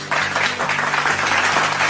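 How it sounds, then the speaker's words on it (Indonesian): A crowd cheers and applauds in a dense, continuous burst of clapping with a faint musical tone underneath, loud and close. "mari kita bertempik sorak"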